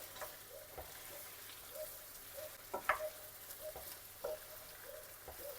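Soft sizzling of goulash meat frying in a pan with garlic and paprika, with a few scraping stirs and light clinks of a utensil against the pan.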